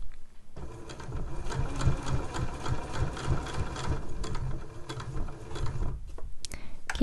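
A sewing machine stitching a zip tote bag, running in a fast steady whir of rapid mechanical stitches that lasts several seconds, then slows and stops with a few single clicks near the end.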